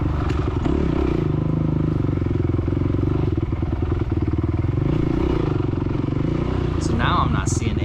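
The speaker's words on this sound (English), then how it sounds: "I pop it up to 3rd gear there." Dirt bike revving hard during a race as the rider shifts up to third gear, the engine loud and rattling close up with constant clatter, and a voice talking over it.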